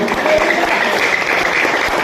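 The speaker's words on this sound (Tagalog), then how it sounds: "Ato sa gawing palakpak ang atong kamot kaigsunan." A church congregation claps together after a service, a steady dense wash of many hands clapping at once for about two seconds, with faint voices underneath.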